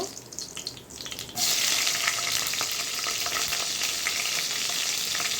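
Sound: nigella seeds and green chilies frying in hot oil

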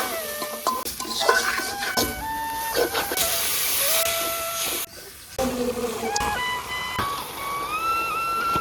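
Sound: spice paste of ginger, cumin, chili, turmeric, coriander frying in pan

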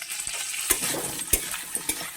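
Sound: taro pieces frying in oil with ginger-garlic paste

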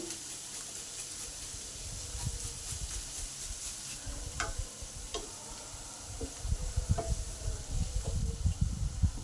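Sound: onion frying in pan

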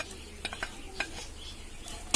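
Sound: coconut pieces frying and being stirred in a pan

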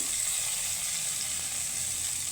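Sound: garlic frying in a pan

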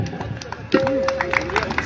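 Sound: audience applause at an outdoor show

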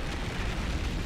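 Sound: eruption blast in the video game StarCraft II

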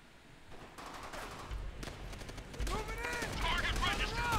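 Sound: gunfire in the video game Call of Duty: World at War

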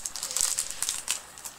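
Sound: handling adhesive tape while unboxing a doll

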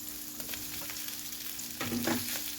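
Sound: stir-frying wide rice noodles with egg in a pan

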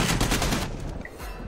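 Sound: gunfire in video game Army of Two

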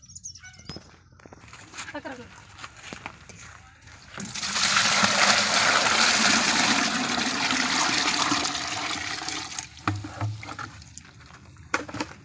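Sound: water poured into a container while making liquid jeevamrutham

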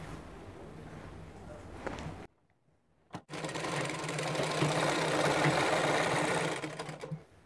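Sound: sewing machine stitching palazzo pants

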